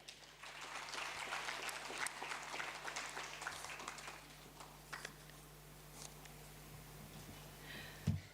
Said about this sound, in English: Another hand of applause, please.